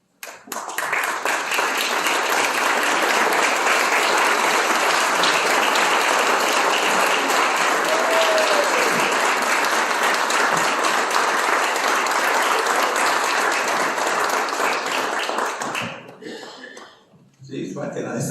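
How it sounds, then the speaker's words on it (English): A banquet audience gives award recipient Joe a long, dense ovation, loud sustained clapping filling the room for about fifteen seconds before it thins and fades out. "please stand and applaud for him"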